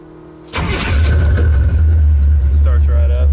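A 1981 Pontiac Trans Am with Cherry Bomb mufflers cranks briefly, fires up loudly and settles into a deep, rumbling idle with a slight rev, heard close by.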